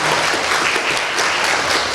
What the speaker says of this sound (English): Another big round of applause for Mr. Wisk for sharing his time.